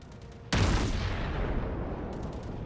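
A single heavy naval gun salvo in the World of Warships game fires as a sudden loud boom, then a long rumbling decay that fills the rest of the moment.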